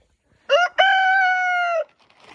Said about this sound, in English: Still have some roosters.